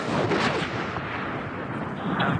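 A bomb blast booms in the Medal of Honor 2010 war game, a dense rumbling roar that stays loud and steady throughout, like heavy explosions and artillery over a village.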